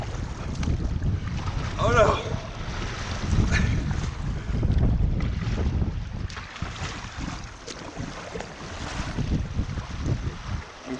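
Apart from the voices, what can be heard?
wind while paddling a canoe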